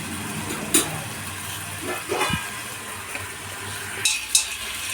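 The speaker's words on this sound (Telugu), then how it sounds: "ఇలా ఒక్కసారి ముక్కలన్నీ కలియగలుపుకొని కొద్దిసేపు మూత పెట్టుకొని మగ్గనివ్వాలి." Chopped vegetable pieces for Telangana pappu biyyam are stirred together in a cooking pot, giving a few scattered scraping strokes over a steady background hiss.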